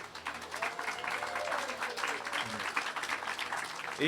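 Applause from a cheering section at a ribbon-cutting for a renovated housing property, a sustained burst of many hands clapping at moderate distance, with voices talking underneath.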